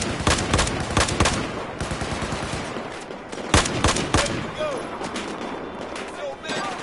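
Battlefield 4 gunfire in the Shanghai map, dense rapid bursts of automatic shots and scattered single cracks, loud and close, with a voice speaking over part of it.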